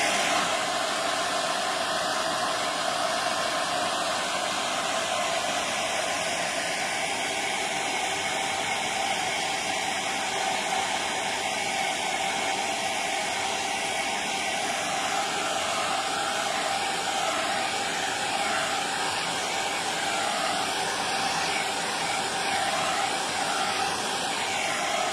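Hair dryer blowing continuously to dry paint on a canvas, a steady whooshing hiss at moderate distance with no pauses and no talking.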